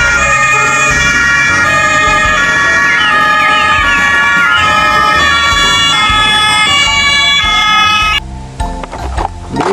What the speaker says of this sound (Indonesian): Widih, mobil pemadam kebakaran.